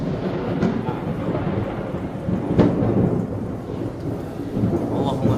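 Thunder rolls in before rain, a broad, sustained rumble with a sharper crack midway and a soft wash of rain beneath, heard at a distance with no talking.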